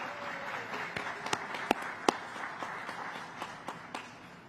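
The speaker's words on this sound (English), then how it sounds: "Let's give them a round of applause." Sparse, scattered hand claps from a few people at an art exhibit opening, fairly quiet and irregular, with a soft background hum.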